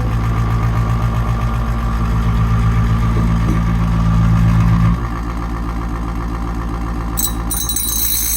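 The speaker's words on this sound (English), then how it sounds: "My bench grinder's walking across the counter." A bench grinder motor runs steadily on a counter, its loud continuous hum and rattling vibration shifting to a slightly lower, rougher drone partway through, with a bright metallic whine near the end. No one speaks.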